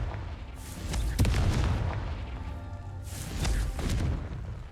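Two deep, booming blasts from the Confringo explosive spell in Hogwarts Legacy roll out a few seconds apart, each a heavy rumbling burst that swells and fades without any talk.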